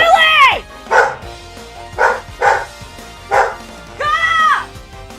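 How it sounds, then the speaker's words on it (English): A dog barks in five loud, separate bursts of yips and barks across a few seconds, close by, with some whimpering pitch to the opening and closing barks. "Ruining my moment over here by barking."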